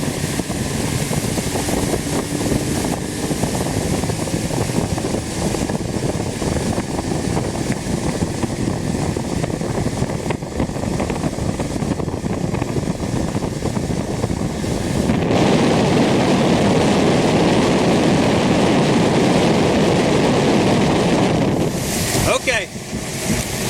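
An outboard boat engine runs on Patoka Lake, a steady drone buried under heavy wind buffeting and water rush, which swell louder as the boat speeds up partway through.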